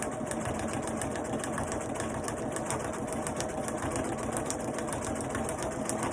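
Sewing machine stitching a gift box, running steadily and continuously at a fast, even rhythm, close and fairly loud with no pauses.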